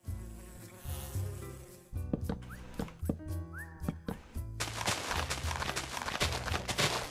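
Bees buzzing in the Minecraft video game, a dense electronic drone that rises under game music and sound effects, growing louder and fuller toward the end.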